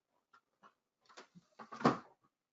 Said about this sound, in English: my neighbors are letting their dogs out